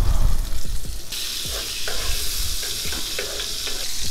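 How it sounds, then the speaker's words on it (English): Butter and olive oil sizzling in a hot pan, a steady bright frying hiss with a few stirring scrapes and clatters near the start, close and loud, with no talking. "So we got some butter and some olive oil here."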